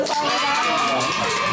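Diners at a Gwangsi Hanwoo village beef restaurant clap and cheer as the beef is served, a dense, loud wash of crowd noise and excited shouts lasting the whole moment.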